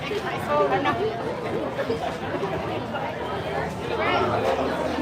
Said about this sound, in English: So there's a big old crowd there for the walk.